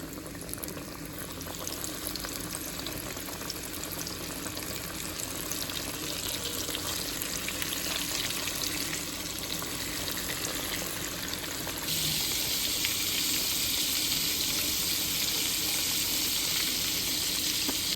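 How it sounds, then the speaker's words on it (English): Alligator pieces coated in flour and panko deep-frying in a fryer: a dense, constant bubbling sizzle of hot oil that holds steady throughout and grows a little brighter partway through, close and without talk. "in flour and panko, and that is ready to drop into the fryer"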